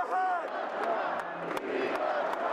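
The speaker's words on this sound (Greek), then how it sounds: "Το πλήθος ζητοκραυγάζει," A large crowd cheering and chanting a slogan in unison at the Republican convention, loud voices with sharp noise bursts, carried as a continuous roar.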